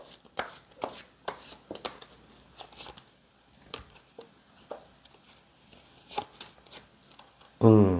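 Tarot cards are shuffled and drawn in a quiet room: a run of crisp riffling and soft slapping card sounds comes in irregular bursts, close to the listener, with a faint voice at times.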